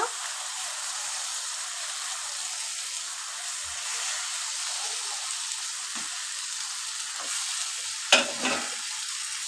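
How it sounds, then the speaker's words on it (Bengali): Rui fish pieces, already fried, sizzle steadily as they are stir-fried in a mustard spice paste in a pan, with a broad, even hiss and a few light scrapes and clanks near the end. "এবার ভাজা মাছগুলো দিয়ে দিব মশলার সঙ্গে একটু কষিয়ে নিব"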